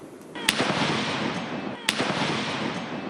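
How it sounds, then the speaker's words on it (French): Beninese army cannons fire a 21-gun salute at the 1 August military parade: two heavy, sharp booms land about a second and a half apart over a steady wash of outdoor crowd and background noise. "21 coups de canon"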